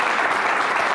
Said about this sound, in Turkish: Alkışlar mıyız Seda Sakacı Çelik'i?